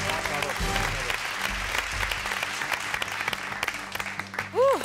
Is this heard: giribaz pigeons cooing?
no